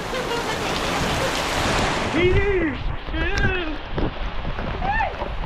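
Rain falls steadily at sea on the first rain of March, a broad continuous hiss that runs under loud, excited voices calling out and talking throughout.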